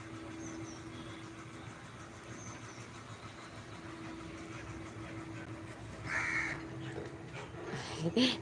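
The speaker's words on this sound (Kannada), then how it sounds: "ಕಾಗೆ" A crow caws a few times in the distance over a quiet background with a low steady hum and faint engine rumble.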